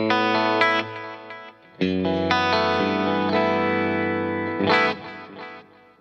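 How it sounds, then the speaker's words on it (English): An electric guitar plays sustained chords with an 80s tone through reverb, delay and chorus effects, ringing loud and shimmering with long echoing tails and no talking. "that's my dry guitar signal going into the reverb and the delay"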